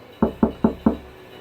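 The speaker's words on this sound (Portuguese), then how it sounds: "E então Pedro bateu na porta da casa." Four evenly spaced knocks on a door, sharp and close, rapping in quick steady rhythm as a sound effect with no voices.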